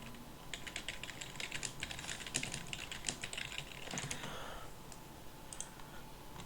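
Keys clatter in quick, uneven bursts as a message is typed on a computer keyboard during a Dofus guild session, close and fairly faint, with no talking over it.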